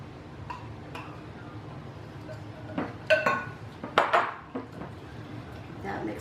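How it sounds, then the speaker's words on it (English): Ceviche stirred in a bowl, the spoon giving a few clinks and taps against the side, clustered near the middle and alone against a low background hum. "And then we're going to stir it up. Get it all nicely mixed."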